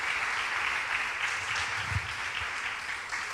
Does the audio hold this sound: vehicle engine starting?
no